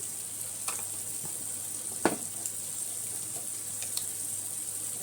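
Chilli paste, ginger paste and garlic paste being fried in a pan for a fish roe and potato curry: a quiet, steady sizzle with a couple of soft utensil clicks, no voices.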